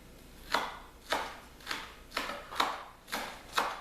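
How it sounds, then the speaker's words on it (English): Knife slicing green onions on a cutting board for bulgogi, heard as seven evenly spaced crisp chops, close and fairly quiet, with no talking. "you're gonna slice green onions"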